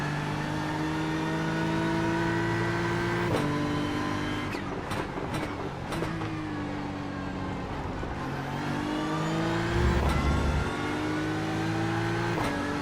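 A BMW M4 GT3 race car engine in iRacing revs and shifts through gears, with rising and falling engine pitch, sharp upshift breaks and other Porsche GT cars nearby in a continuous close drone.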